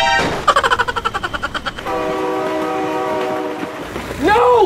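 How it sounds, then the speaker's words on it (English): A passing train in the BeamNG Drive driving game, with rapid rhythmic clatter of wheels followed by a long, loud, sustained horn blast close by, then a short rising and falling tone at the end. "Oh my god, train!"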